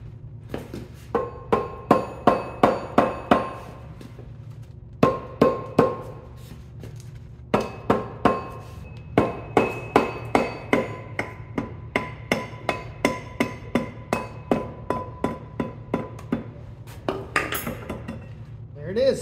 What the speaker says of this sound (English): So that's the process, just gently tapping it off and then letting the foam mat catch it.